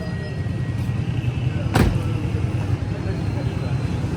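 A Toyota Hiace Grand Cabin van idles and rolls out under a steady low engine hum, with a single brief sharp swish partway through.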